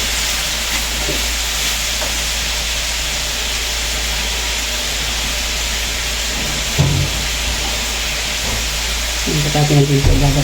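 Tinola cooking in a pan gives a continuous low sizzle and hiss, broken by a brief knock midway and some faint voice-like sounds near the end.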